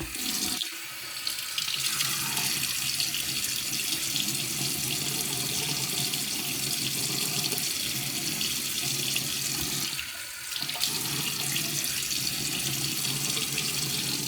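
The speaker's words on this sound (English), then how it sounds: "Let me get my face wet." Running water pours from a bathroom tap while a face is wetted before a shave, a steady close rushing splash that stops briefly near the start and again partway through.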